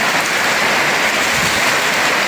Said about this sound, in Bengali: শুধু বৃষ্টি না, ঝড়ও হইতেছে।